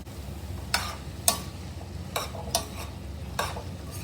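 Carrots and potatoes sautéing in oil in a pan for a Kerala stir-fry, with a low steady sizzle and several distinct stirring scrapes at intervals, close up and without speech.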